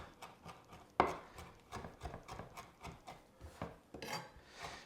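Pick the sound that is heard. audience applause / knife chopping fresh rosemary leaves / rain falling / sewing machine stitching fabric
knife chopping fresh rosemary leaves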